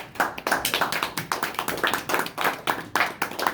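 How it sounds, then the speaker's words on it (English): An audience standing to applaud a workplace icebreaker honoree, a burst of hand clapping with distinct, rapid claps close by, continuous for several seconds. "give a round of applause for the toughest boss."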